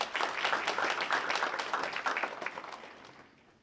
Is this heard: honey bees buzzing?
no